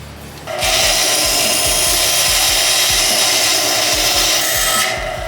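A Rikon 10-inch bandsaw cuts wood freehand: the blade's whine starts up sharply after a short pause, holds steady and loud for several seconds, then drops away near the end, with a low rhythmic thumping underneath.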